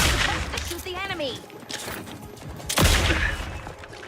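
Gunfire and impacts from a combat fight in the video game The Outer Worlds 2, loud bursty shots and crashes mixed with game voices and a live player talking over the action.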